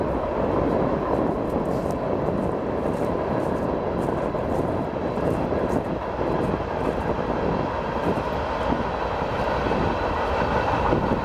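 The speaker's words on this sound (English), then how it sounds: "This is a perfect time to actually do a video when there's a train coming." A train rumbles past steadily and continuously beside wetlands in Beaver County, Pennsylvania, a loud, dense low roar with rattling wheels that holds throughout without pause.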